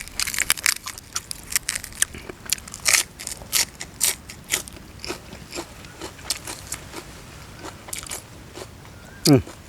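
Crunchy baby octopus dipped in spicy sauce gets bitten and chewed up close, giving repeated crisp crunches in irregular bursts, while a voice talks between bites.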